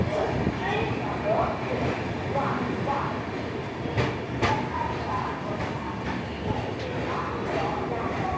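The Secunderabad-Nizamuddin Duronto Express rolls into Ballarshah Junction with a continuous rumble and scattered wheel clatter, heard from inside the train, while people talk faintly throughout.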